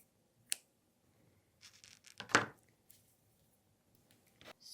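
Scissors snip off a piece of yarn in a quiet room: a few faint, sharp cuts and light rustles, with the loudest snip near the middle.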